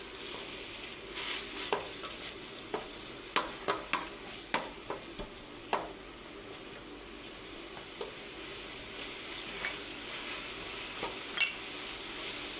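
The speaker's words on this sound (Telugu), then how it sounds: "ఇప్పుడు ఇందులోకి అల్లం వెల్లుల్లి మసాలా కొద్దిగా ఫ్రై చేసుకున్నామండి." Vegetables frying in a pan with ginger-garlic masala for a veg masala pasta, a steady soft sizzle broken by a string of sharp scrapes and clacks from a spoon stirring against the pan, close and fairly quiet, no voices.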